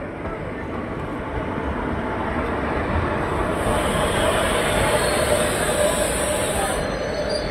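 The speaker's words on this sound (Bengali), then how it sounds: "new Alipurduar Sealdah Teesta তোস্তা express" The New Alipurduar–Sealdah Teesta Torsa Express runs with a loud, continuous rail rumble and wheel noise that hold steady throughout.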